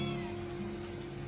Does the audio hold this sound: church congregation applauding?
no